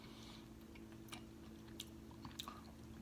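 Close, quiet chewing of homemade triple burgers, with a few soft wet bites and crunches over a low steady background hum, no talking.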